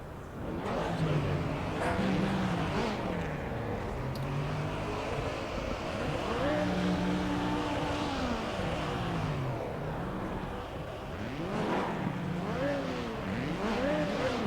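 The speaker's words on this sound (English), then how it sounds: "Everyone revving their engines on the grid as everyone comes out from the garage onto the grid." Race car engines rev on the starting grid at Hockenheim in a racing video game, several cars overlapping in continuous rising and falling revs, loud and steady throughout with no talk.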